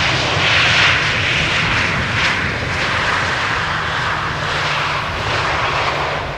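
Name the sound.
airplane engines of arrivals at Schiphol Polderbaan runway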